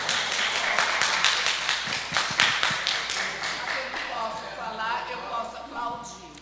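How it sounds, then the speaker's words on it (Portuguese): Clapping from a small audience at a public council meeting, sharp, irregular hand claps fairly close and loud at first, thinning out as voices talk over them and a person speaks in the latter half. "Queria pedir, por favor, para cessarem as palmas para a gente continuar a reunião"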